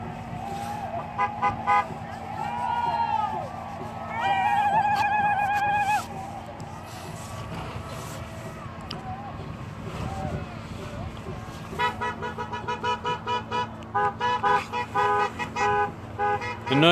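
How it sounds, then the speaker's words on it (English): Car horns toot in short bursts and a longer held blast as vehicles try to clear a blocked road at a bridge blockade, over steady traffic and engine rumble, with voices in the background. "The noise you hear is people going back in cars for medical and trying to clear the road to get"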